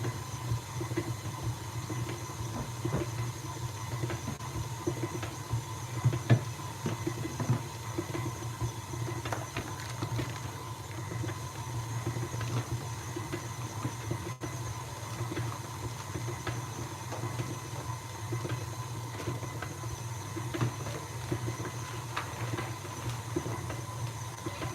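An electric mixer runs steadily while mixing vegan brownie batter. It gives a faint, constant motor drone with a humming tone and soft hiss throughout, no voices, and a few small knocks.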